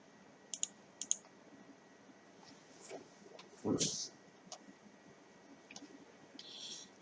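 A computer mouse clicks a window's X close button: a few sharp, quiet clicks early on, then a louder thump and scattered faint clicks against a low background hush.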